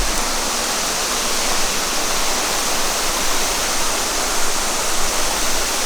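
Floodwater after a night of heavy rain rushes down a road, a dense, loud, unbroken roar of churning water with a steady broadband hiss and no voices over it.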